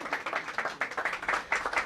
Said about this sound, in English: Can we have a round of applause, please, for Jelena?